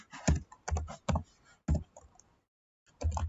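Python code is typed on a computer keyboard in rapid clustered bursts of close clicky keystrokes, pausing briefly before a final flurry.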